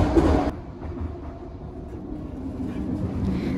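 An automatic, driverless electric Vancouver SkyTrain passes in New Westminster. Its low rumble is loudest at first, then eases into a steady, moderate drone, with some wind noise on the microphone.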